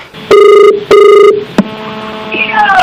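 Two long, loud ringing tones sound one after the other, followed by a sharp click and then fainter tones on the line.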